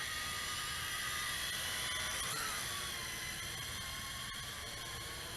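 MJX X101 quadcopter drone hovering, a steady high-pitched whirring buzz of spinning rotors, loud and close, holding constant with slight pitch wavers throughout.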